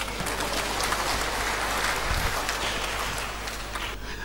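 A church congregation claps together, the steady applause filling the room for about four seconds before fading slightly at the end.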